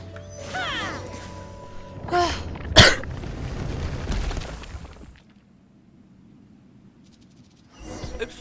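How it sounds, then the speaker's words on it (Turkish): A person coughs and clears their throat in a few rough bursts, loud and close, over in-game sound from Genshin Impact, then quiet near the end. "Öksürüğüm için özür dilerim gerçekten."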